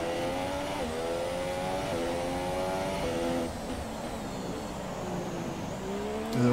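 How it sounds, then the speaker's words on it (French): An F1 car in the F1 2017 racing game, engine whining through shifting revs as the tires lose grip and push it wide, loud and continuous with a sharp rise at the end. "Vous avez entendu là les pneus"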